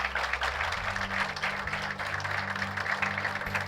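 A church congregation claps for the Lord in a sustained, fairly dense round of applause, with a low musical hum beneath the clapping throughout.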